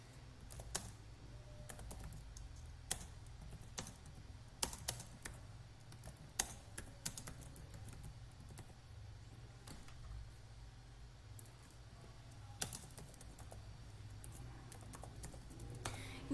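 Someone types on a computer keyboard in a quiet room, with scattered bursts of crisp key clicks and occasional louder taps spread unevenly over a low background hum, close and fairly faint.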